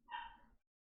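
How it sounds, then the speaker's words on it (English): A puppy gives one short, fairly faint bark that cuts off quickly, followed by near silence. "barking puppy"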